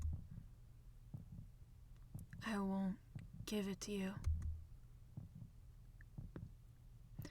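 A horror video game plays a heartbeat sound effect as faint repeated low thumps, steady and soft beneath a few spoken words and other game noises.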